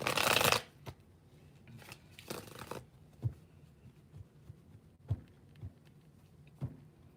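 Tarot cards are shuffled in a burst of riffling at the start, followed by softer, spaced card taps and slides at an even pace, close and fairly quiet.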